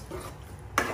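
Beef masala gets stirred in a pan, with a soft scraping followed by one sharp utensil clink near the end, close and brief.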